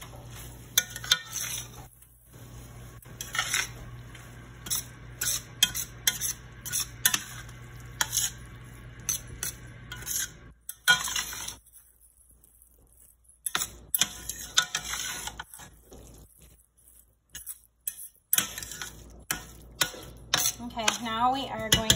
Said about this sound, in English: Okay, then you're gonna stir that all in.